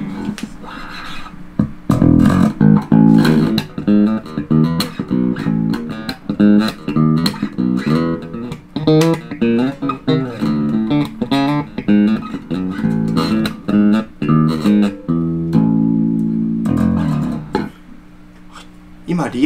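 Bacchus Global Series HWL5-CUSTOM24 bass guitar played on its rear pickup, a punchy, tight tone with a busy line of plucked notes and slides heard close and loud, easing into quieter sustained notes near the end.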